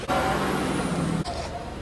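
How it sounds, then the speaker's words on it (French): Road traffic outside a home in stormy weather, a continuous loud rush of passing cars and trucks with a brief dip before the noise resumes, no voices. "il y a gavé de bruit dehors, les voitures passent, les camions"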